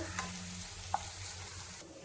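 Cut okra frying in a pan and being stirred now and then, a low continuous sizzle with soft scraping and one sharp clink, fairly quiet throughout.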